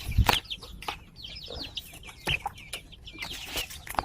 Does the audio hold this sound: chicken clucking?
yes